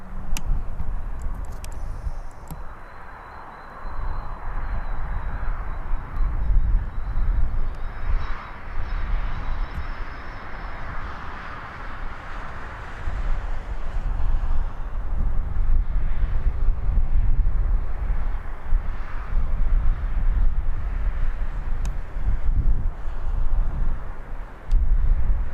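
Ryanair airplane passing overhead at Birmingham Airport, a loud, sustained jet roar that swells and holds outdoors, mixed with wind buffeting on the microphone, with no speech.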